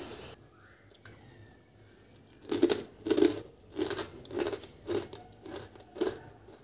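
Crunchy homemade murukku snack bitten and chewed up close, a steady series of sharp crisp crunches after a brief quiet start, loud and with no talking.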